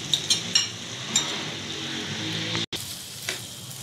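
Potatoes frying in about a tablespoon of oil in a pan give a steady soft sizzle, punctuated by a few light clinks and scrapes of a spoon stirring.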